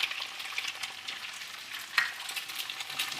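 Homestyle Chinese fried rice with egg is stir-fried in a pan, making a close, even hiss of frying with light scraping clicks and one sharper knock midway.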